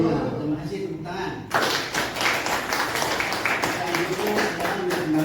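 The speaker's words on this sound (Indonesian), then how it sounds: "Terima kasih, tepuk tangan" A group at a training session claps together: quiet room sound with voices, then a dense, steady burst of applause from about a second and a half onward that continues to the end, with voices mixed in.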